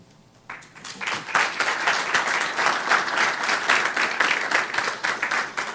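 An audience breaks into applause at an evening gathering in an association hall, a sustained, dense burst of many hands clapping that swells quickly and holds steady without talk.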